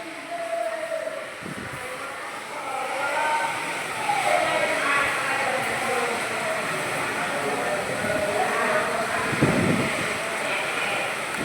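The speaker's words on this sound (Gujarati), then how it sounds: "ફૂલ વાવાઝોડો મિત્રો." A full windstorm with a heavy downpour makes a steady, loud roar of wind and rain throughout, with gusts that rumble low now and then.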